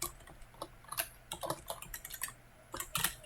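Rapid typing on a computer keyboard during a Python programming demo, a steady run of sharp key clicks with a brief pause near the middle, close and fairly quiet with no voice.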